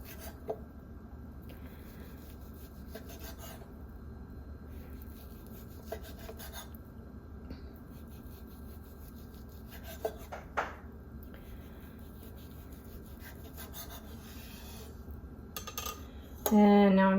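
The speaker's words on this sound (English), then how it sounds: "I am going to give this some really thin cuts, slices, as thin as I can get them" A knife slices leftover pork thinly on a board, a soft repeated rasping and rubbing under low background hum, with a couple of light taps and a brief louder clatter at the end.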